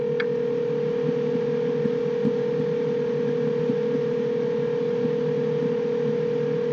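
A telephone line connecting in the video game Danganronpa 2, a steady electronic tone with a low buzzing hum underneath, continuous and unchanging, with no voices.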